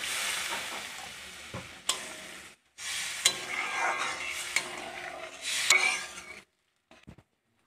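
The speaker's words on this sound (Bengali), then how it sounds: "মা আজকে টমেটো দিয়ে মাছের ঝোল রান্না করছে" Fish curry with tomatoes cooking in a pan, heard as close stirring and sizzling with scrapes against the pan, broken by short pauses and sharp utensil clinks.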